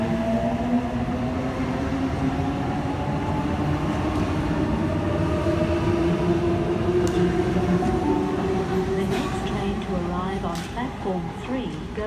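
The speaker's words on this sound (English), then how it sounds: "We've got a Springwood service departing platform number 3." A Sydney Trains Springwood service pulls out of Penrith station platform, a loud steady rumble of motors and wheels with rising electric whine, heard close for the whole stretch, with faint squeals and clicks over the top.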